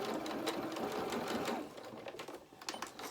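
Home sewing machine stitching a seam on a doll's bloomers and reversing at the seam end: a steady close whirring run for about one and a half seconds, then quieter uneven stitching with small clicks.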